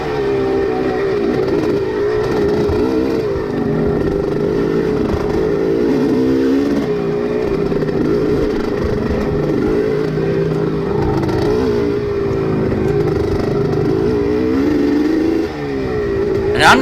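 Race car engines roar at close range during a lap at Frackville, holding a loud, continuous drone with small pitch shifts that rise and fall as the car accelerates.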